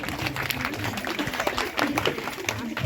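An audience at a school program claps for the netaji, a busy, steady patter of many hands that is moderately loud and continuous throughout, with voices mixed in.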